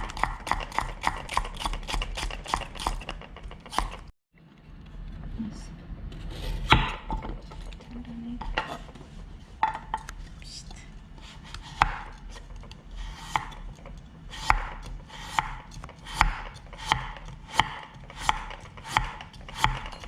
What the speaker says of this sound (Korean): 파프리카는 가늘게 채쳐주세요